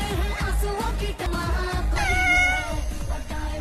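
A cat meows in a domestic comedy scene, giving a couple of drawn-out meows over a thumping music bed, with no talk.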